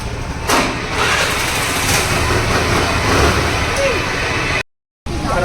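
A rented scooter's engine runs in Jaipur with a steady mid-pitched hum, loud and close under wind-buffeted noise. The engine cuts briefly to silence just before the end.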